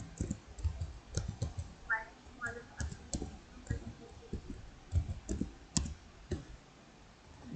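Someone types a type name into a catering management system on a computer keyboard, producing sparse, close, uneven key clicks with short gaps, as a voice briefly speaks over them.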